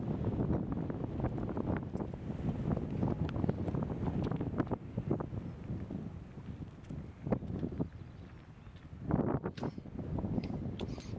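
Strong wind gusts across an open disc golf course during a tournament round, a steady broadband roar buffeting the microphone with surges throughout and a sharper gust near the end.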